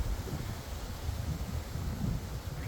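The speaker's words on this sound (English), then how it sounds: "Quite windy in this canyon." Strong wind roars through a mountain canyon on a hike near a boulder field, a constant low buffeting rumble battering the microphone throughout, with no talking.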